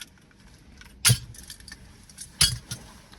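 Keys jangle in two short, bright metallic bursts about a second and a half apart, close by against a quiet background.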